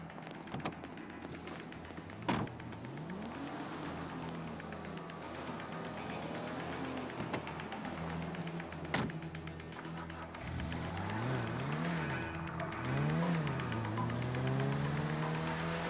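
A car driven in the GTA V video game, its mid-pitched engine running steadily with rising and falling revs and a few sharp taps, with no talk.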